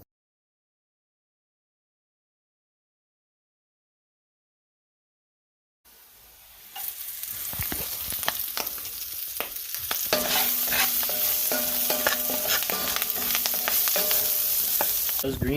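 Greens frying in an oiled pan, silent at first, then a spatula stirring and scraping with crackling sizzle that builds and settles into a steady loud frying hiss, with no talking.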